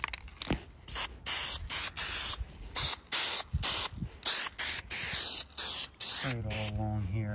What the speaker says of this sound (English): We're gonna take this spray adhesive